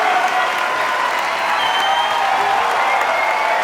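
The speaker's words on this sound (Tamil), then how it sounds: "ஐயோ பெரிய கைத்தட்டல் கொடுக்கணும்" A studio audience at a Tamil children's singing show grand finale claps loudly and continuously, a thick, even wash of applause with faint crowd noise mixed in.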